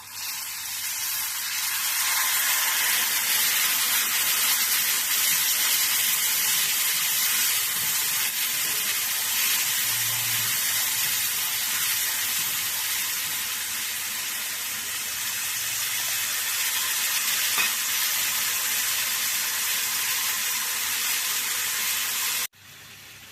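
Ground spice masala and tamarind frying in hot oil, a loud continuous hiss and sizzle that holds steady for over twenty seconds before cutting off abruptly near the end.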